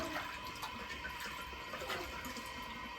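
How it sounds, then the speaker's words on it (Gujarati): Tap water runs steadily into a kitchen sink while hands are washed, a continuous close splashing hiss with small variations as the stream is interrupted, and no voices. "કુકર બગડે નહીં એટલે પેલા હાથ ધોઈ નાખવા"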